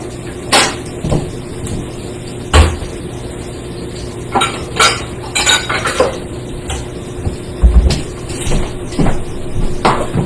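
A bowl is pulled out in a kitchen, with dishes and utensils clinking and clattering in several sharp, close knocks at uneven intervals over a quiet hum.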